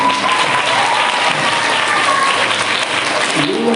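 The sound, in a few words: audience applause for the librarian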